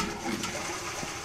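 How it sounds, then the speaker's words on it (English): A toilet in the video game Internet Cafe Simulator 2 flushes with a soft rushing swirl of water. It is fairly quiet and continuous, with no talking over it. "Oh, he flushed."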